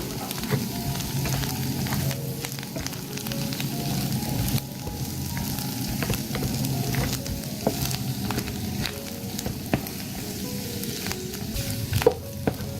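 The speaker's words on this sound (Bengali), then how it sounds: "দিয়ে একটু নেড়ে চেড়ে ধনিয়া পাতাটাও মিশিয়ে নিচ্ছি" Chicken lollipops being stirred in a sizzling sauce with coriander leaves, a steady close frying hiss with scattered scraping clicks of the spatula against the pan, no talking.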